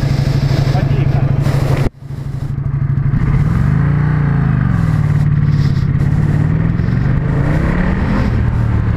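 Ducati motorcycle on a racetrack, a loud close engine droning with a sharp gearshift cut, then revving back up with rising and falling pitch sweeps, with wind noise and some talk.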